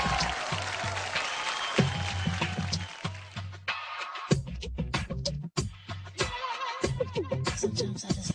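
Audience at a Bhojpuri international film awards show breaks into scattered applause and whistles, bursts of clapping under loud, choppy stage music that cuts in and out.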